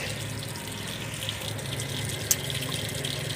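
A steady stream of water gushes and splashes continuously into a cooking pot holding goat meat, with a faint clink partway through.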